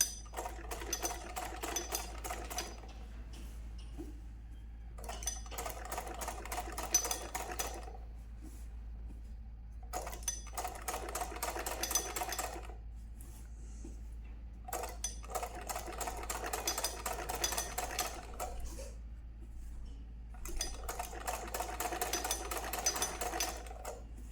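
Sewing machine stitching cloth along a corner during tailoring, running in several long bursts separated by short pauses, steady and close with a low hum underneath.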